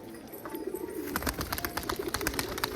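Pigeons coo on a rooftop in a rural yard, a steady pulsing low burble near at hand, mixed with clicks and wing flutter, and no talking.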